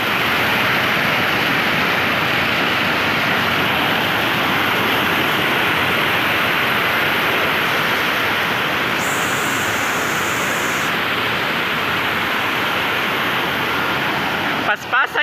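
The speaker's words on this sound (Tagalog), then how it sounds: "Kusog sa baha." Floodwater roars steadily over a river spillway, a loud continuous broadband rush that never lets up, with a brief faint higher-pitched tone in the middle.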